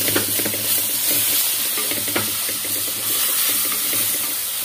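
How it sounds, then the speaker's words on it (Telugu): Onions frying in a pan for an egg and potato curry, a steady hiss of sizzling oil with a spoon scraping and stirring through them at regular intervals, close and fairly loud, with no talking. "ఇంకా కొంచెం వేగనిద్దామండి ఉల్లిపాయలు"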